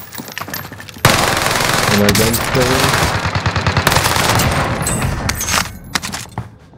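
Rapid PPSh submachine gun bursts fired from the hip in Warzone crackle loudly in dense, repeated volleys, with a voice briefly heard between the shots.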